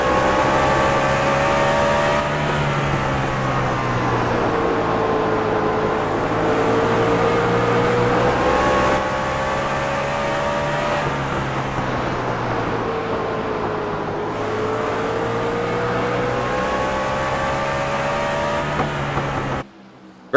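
Race cars roar around a track in a continuous loud engine drone, pitch rising and falling as they lap and chase each other, steady for about twenty seconds before cutting off at the end.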